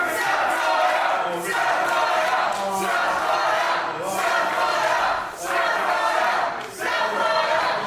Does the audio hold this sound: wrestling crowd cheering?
yes